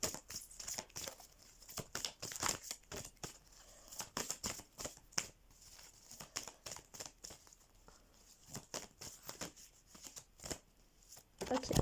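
Tarot cards are shuffled and drawn for a reading. Soft, quiet riffles, slides and flicks come in irregular bursts, with brief pauses between them.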